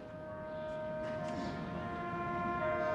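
A police siren approaching during a stage performance, a steady wailing tone that swells gradually louder over a noisy backdrop.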